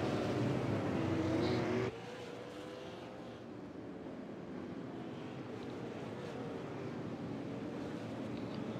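Stock cars at Martinsville in a sim racing game, with a Ford Mustang pace car leading the field under caution, produce a low, steady engine rumble, loudest at first and then settling to an even, distant drone.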